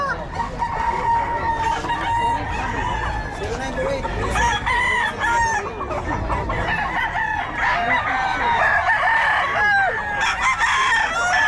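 Blackback gamefowl roosters at a market crow and cluck repeatedly, many birds overlapping near and far in a busy, continuous din, with people talking underneath.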